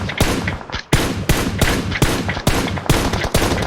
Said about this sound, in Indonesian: Itu mereka mati gak sih tembak Rejo?